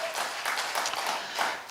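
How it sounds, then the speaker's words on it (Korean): A lecture audience at a health talk in a care hospital breaks into applause, a dense, steady patter of clapping filling the short moment at moderate loudness with no voices over it. "박수!"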